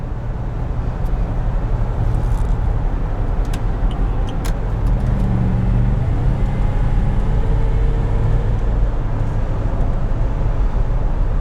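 A supercharged 2008 Range Rover Sport engine pulls hard under acceleration, heard from inside the cabin as a loud, continuous low drone with a rising, strained tone and steady road rumble throughout.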